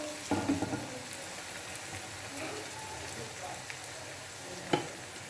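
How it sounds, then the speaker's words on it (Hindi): Onions fry in a pan for a masala fish curry, giving a soft steady sizzle at low level with occasional stirring scrapes and clinks, and a voice speaks faintly over it. "प्याज डालकर इसको हल्का ब्राउन करेंगे"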